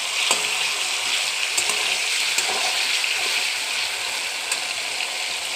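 Large cubes of paneer, 250 grams, frying in hot oil, giving a steady close sizzle with occasional small pops and crackles.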